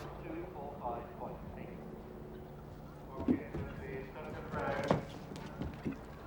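Horse hooves galloping over turf on the cross-country course of the 1993 Badminton Horse Trials, a series of rhythmic thuds rising to heavier impacts near the sunken road, under a commentator's voice.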